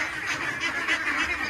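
A crowd of ducks, small ones among them, quacks and honks in a dense, continuous chorus at a market where ducks are being sold, their overlapping calls filling the whole moment.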